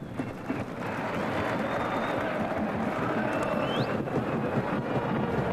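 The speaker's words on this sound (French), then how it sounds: "Le public de Bollaert l'applaudit." The crowd at Bollaert stadium applauds during a Lens versus Lyon Coupe de France semi-final football match, a continuous crackling rush of clapping, steady throughout, with a brief whistle rising above it.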